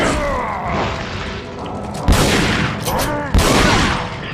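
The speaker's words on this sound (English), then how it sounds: "This shotgun sucks, man." Shotgun blasts in the action horror game Resident Evil 4: Separate Ways, two sharp loud booms standing out over a dense, constant backdrop of in-game combat noise and chaotic effects.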